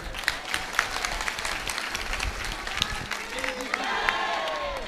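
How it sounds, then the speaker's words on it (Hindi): Audience at a devotional talk clapping, a fairly faint and scattered patter of hands with some crowd murmur and voices mixed in. "चलो अब ताली बजाओ।"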